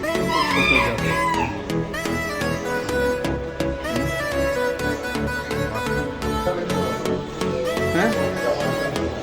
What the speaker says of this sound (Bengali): সেরেমা সেরেমা ও, এটা সেরেমা জাত।